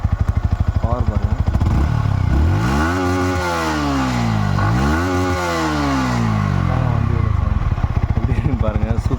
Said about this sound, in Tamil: இக்னிஷனும் இதுதாங்க வண்டியோட நார்மலான சவுண்டு.